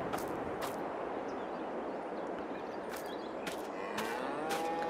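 Cattle on a Missouri farm in Farming Simulator 22 moo repeatedly over a steady farmyard ambience, with several drawn-out calls overlapping at moderate distance and no talking.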